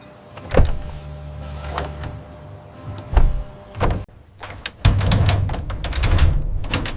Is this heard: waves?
no